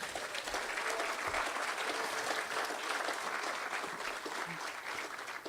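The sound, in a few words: audience applause for program funders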